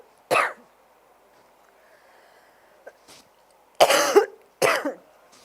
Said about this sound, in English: These coughs take such a long time.